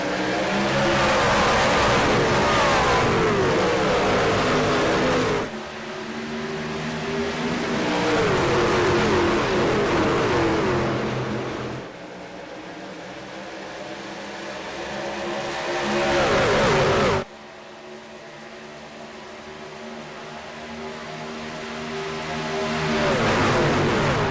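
Race cars in a No Bull Racing Series event at Charlotte roar away at the green flag, a loud dense engine roar with rising revs through the field, easing and swelling again as cars pass.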